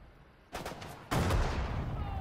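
Gunfire and artillery from military units in Sudden Strike 4 on PS4: a burst of shots erupts, then a heavier, louder blast follows and rolls into a sustained, booming rumble.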